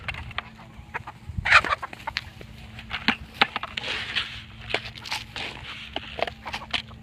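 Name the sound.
chickens clucking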